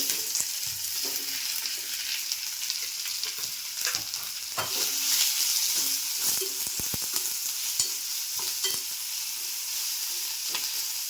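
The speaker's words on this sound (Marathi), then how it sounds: "कांदा छान असा परतून घेते एकदम मऊ होईपर्यंत" Chopped onion frying in a pan after curry leaves and asafoetida go into the oil, with a steady close sizzle and repeated scraping stirs of a spoon throughout.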